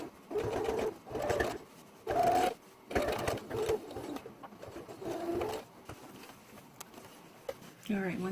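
A sewing machine stitching a homemade denim jeans purse, running in several loud close bursts with pauses between, plus a brief voice at the end.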